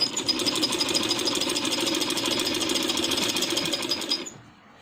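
A sewing machine stitches a dress in a fast, steady, loud mechanical chatter at close range, running without a break and then stopping abruptly near the end.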